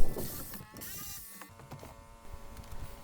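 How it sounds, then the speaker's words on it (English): An electric jigsaw cuts tongue-and-groove sheeting square into the corners of a window opening, a faint buzzing rattle that rises and falls in short bursts, close by with no talk. "an electric jigsaw used to finish the cut so they are square into the corners"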